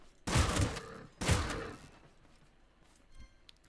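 Crops in the survival game Scrap Mechanic make their ready-to-harvest sound, two heavy, loud thuds a second apart, each with a booming decay, then a faint soft knock.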